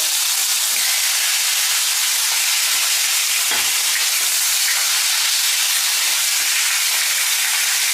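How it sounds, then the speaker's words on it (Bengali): Hilsa fish heads rubbed with salt and turmeric fry in hot mustard oil, a continuous dense hiss and sizzle at close range with faint bubbling pops and no talk. "ইলিশ মাছের মাথাটাকে আমি খুব ভালো করে ভেজে নিচ্ছি"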